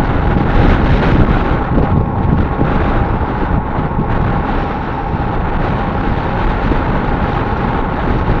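Heavy, gusty wind buffets the microphone during a road drive, a loud continuous roar with slight swells in strength and engine and road rumble beneath, no voices.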